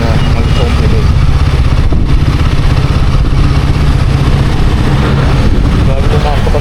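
Royal Enfield Guerilla 450 roadster motorcycle, 450cc engine running on a test ride, a loud continuous low throb with a dense rumble, while someone talks over it throughout.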